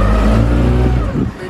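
A car engine hums loudly close by, steady and strong through most of the moment before dropping off near the end, with a brief voice at the tail.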